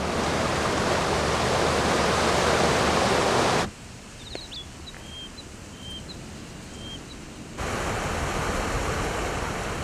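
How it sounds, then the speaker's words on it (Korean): The Biryong waterfall on Mount Baekdu, 68 metres high, thunders as a loud, steady roar of falling water; it drops away for a few seconds, leaving quieter ambience with faint bird chirps, then the roar returns. "백두산에서 가장 긴 비룡폭포. 높이 68m, 우레 같은 폭포 소리가 얼어붙은 산을 깨웁니다."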